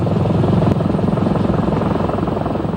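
A helicopter hovers over water, ready to hoist a space capsule, and its rotor makes a loud, close, steady beating whump with engine roar filling the whole stretch.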